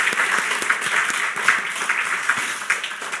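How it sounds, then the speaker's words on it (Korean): Church congregation clapping in encouragement for the children and youth during a service, a moderate round of applause with individual claps audible in an even rhythm. "크게 박수로 격려해 주시면 감사하겠습니다"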